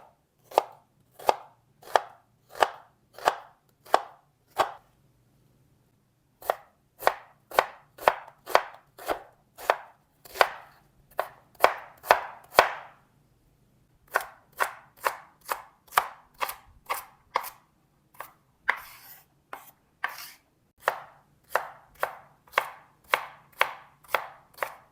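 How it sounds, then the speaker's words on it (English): A knife chops carrot, celery and onion on a board in close, crisp, evenly spaced strokes, with a few short pauses between runs of cuts, no talking. "we're going to chop up our carrot, celery, and onion"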